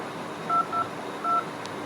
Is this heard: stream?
no